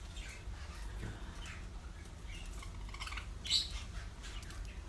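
Faint chirps from an English budgerigar chick on a breeding farm, with soft scattered tweets over a low background hum.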